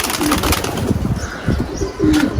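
A returning runaway white-tailed pigeon coos in low, rolling bursts close by, with rustling and a brief flutter of wings, no talk.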